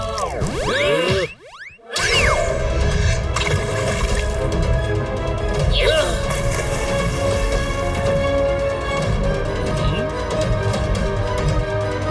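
Water whooshes and splashes onto a fire in an animated cartoon, loud and steady throughout with a brief dip near the start, no talk.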